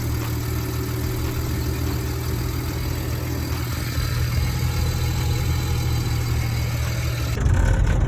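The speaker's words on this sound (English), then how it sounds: "That's a rattle right there. I think that's the wastegate for the turbos." Steady engine idle from a BMW E92 335i with the N54 twin-turbo engine, its wastegate rattling, a constant low drone with a brief louder swell near the end and no speech.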